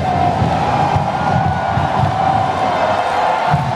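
A stadium crowd at a Texas A&M versus Idaho football game yelling together on hand signals, a loud sustained roar with rhythmic swells and no clear talk.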